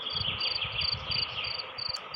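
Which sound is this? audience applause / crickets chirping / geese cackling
crickets chirping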